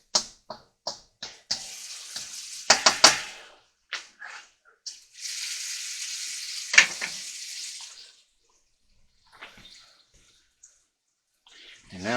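Onion and garlic sizzling in a wok on high heat for prawn fried rice. It opens with sharp, loud bursts of crackle, then a sustained hiss that fades to near silence.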